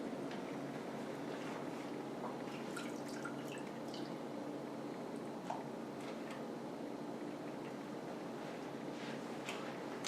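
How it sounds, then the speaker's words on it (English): Lemongrass essential oil drips into a soap mixture as a run of faint, scattered little drips and plops over a soft, steady background hiss. "So I'm gonna add my lemongrass essential oil."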